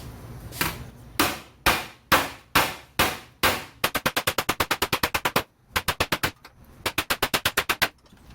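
A sheet metal floor pan for a 1977 Chevy C10 pickup is hammered without an anvil: a series of loud, sharp metallic strikes, first slow and spaced, then quick rapid bursts of blows.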